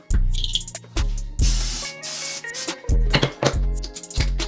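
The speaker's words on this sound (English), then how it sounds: "Disinfect these bad boys. Spraying the wrong way" Several sharp bursts of disinfectant spray hiss onto hair clippers, one long sustained spray in the middle, with clinks of handling between them, close and loud.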